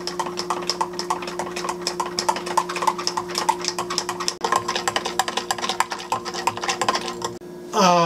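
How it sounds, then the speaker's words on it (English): Spoon stirring a honey lemon ginger shot in a glass, quick rapid clinking taps in a steady busy rhythm close up, over a faint hum, ending in a brief louder rustle. "so you gotta give it a good stir"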